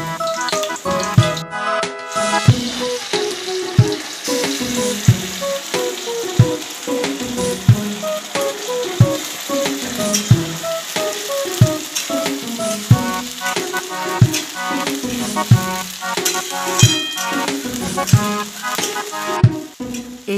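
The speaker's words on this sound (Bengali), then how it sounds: "এখন আলুটা বেরেস্তাটা ভেজে নেব" Potatoes and birista (fried onions) frying in oil for biryani in a home kitchen, a steady close sizzle running throughout with regular light clatters and no talking.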